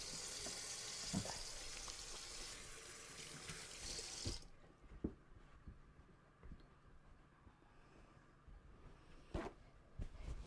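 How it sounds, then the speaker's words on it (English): Hands being washed under a running kitchen tap, a steady hiss of flowing water for about four seconds that then stops, followed by faint clinks and handling noises. "Let me just wash my hands."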